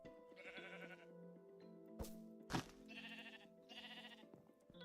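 Sheep bleat in a video game wool farm, three clear bursts of wavering cries at intervals, with a couple of sharp clicks and thuds in between.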